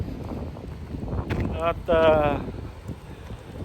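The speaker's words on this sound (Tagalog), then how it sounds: "medyo mahangin na ho ang ating klima ngayon" Wind gusts in low, buffeting rushes across the microphone outdoors in late afternoon, under a person speaking.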